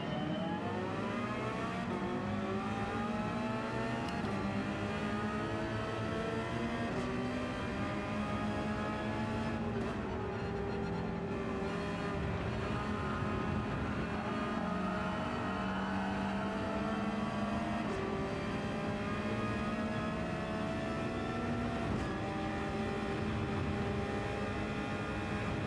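A race car engine in Gran Turismo 7 drones steadily, revving up and down through gear shifts with no break, holding at a moderate, even level.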